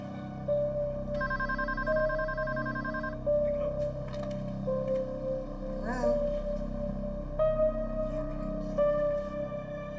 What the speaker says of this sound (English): Come on, get up and get the phone.